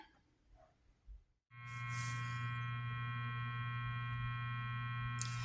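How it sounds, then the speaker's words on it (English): Hum from the P90 single-coil pickups of a Gretsch ProJet electric guitar played through a loud amp: after a brief quiet gap, a steady, loud electrical buzz with strong harmonics sets in and drones on unchanged, with no playing or talk. "P90s are big single coils, so it's going to hum"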